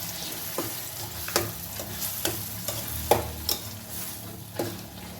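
Mutton fry is stirred in a pan, with a continuous sizzle under a series of distinct scraping and knocking strokes from a spoon, coming roughly every half second to second, close and fairly loud.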